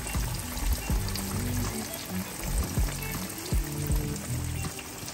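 Crappie fillets fry in a shallow pan of oil, giving a steady crackling sizzle with bursts of popping and bubbling up close, and no voices over it.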